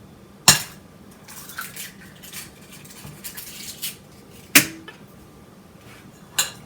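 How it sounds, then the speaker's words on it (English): An egg for a chicken roll is beaten in a bowl, with sharp utensil clinks against the bowl and softer whisking scrapes between them, close and clear, no talk. "I'm nicely going to beat that egg."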